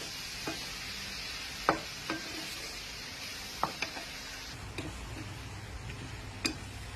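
Sugar and oyster sauce sizzle in a hot pan as a spatula stirs and scrapes, a steady frying hiss broken by sharp, scattered clicks of utensil on metal, close by.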